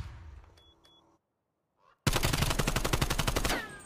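Rapid automatic gunfire in a Call of Duty match bursts in loudly after a quiet moment, a fast steady stream of shots lasting over a second, preceded by faint game sounds.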